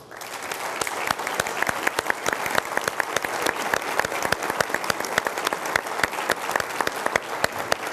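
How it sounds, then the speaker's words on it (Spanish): An auditorium audience applauds both teams at the close of a Peruvian 2011 policy debate, a thick, continuous clapping with crisp individual claps punctuating the steady roar throughout. "quiero pedirle al auditorio que finalicemos este debate con un fuerte aplauso para ambos equipos"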